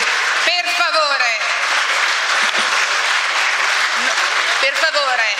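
Applause in the Italian Senate chamber during a confidence-vote debate, sustained, dense clapping across the hall that carries on loudly for several seconds beneath a voice speaking.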